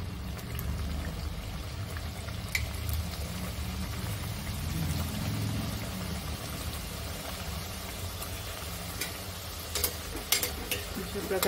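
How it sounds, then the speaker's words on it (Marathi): Shaped chaat frying in hot oil on a pan over a medium flame gives a faint, continuous sizzle, with a few sharp clinks and scrapes near the end. "आपल्याला हा चाट मीडियम फ्लेमवर तळायचा आहे"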